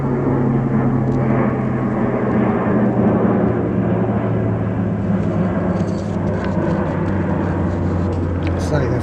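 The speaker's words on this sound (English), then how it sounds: "Here comes the plane straight overhead." A plane passes straight overhead above a Thames fishing peg, a loud, steady, broad roar that holds throughout without fading.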